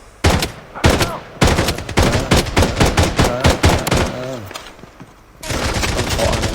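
Loud automatic gunfire in the shooter game Blood Strike comes in several rapid bursts separated by short pauses, with a voice talking over part of the action.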